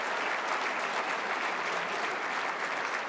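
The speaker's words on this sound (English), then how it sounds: "Another round of applause for them" Steady, dense applause from an audience at an award ceremony for community citizenship, sustained and even throughout with no speech over it.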